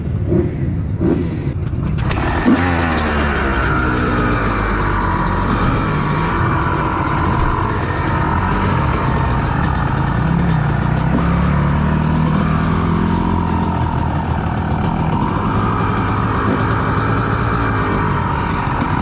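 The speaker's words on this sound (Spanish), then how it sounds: "Vamos a ir calentando la moto." Motocross motorcycle warming up at the El Arenal track in Priego de Córdoba: after a quiet start the engine fires at about two seconds and runs loud and close with steady idling and repeated revving blips.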